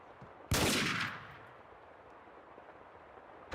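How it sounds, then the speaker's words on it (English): A loud, close burst of gunfire in Max Payne 2 erupts sharply and rings out for about half a second before trailing off into a lingering echo, with another shot cutting in at the very end. "now I was being shot at"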